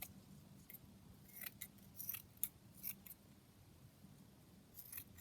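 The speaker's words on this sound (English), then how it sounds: "I'm just cutting it very randomly" Scissors make a handful of sparse, soft snips through lace, close up but faint, separated by quiet pauses with no talking.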